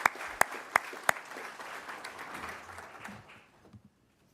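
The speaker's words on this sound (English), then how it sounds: "Let's give a big round of applause to the" At a city community meeting, a few sharp, close individual claps ring out first, then a scattered round of audience applause follows and fades away over about three seconds.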